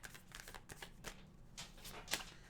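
Tarot cards being shuffled by hand, a run of soft papery riffles and flicks close by, with quiet pauses between bursts and no talking.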